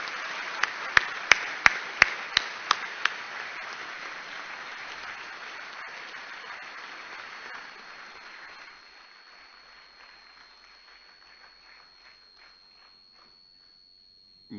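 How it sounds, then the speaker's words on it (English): Audience applause at the AIIMS 2015 annual convocation ceremony: a few sharp, close claps ring out over broad, dense clapping, which then thins and fades over about nine seconds into near quiet with a steady high hum. "give him a big round of applause"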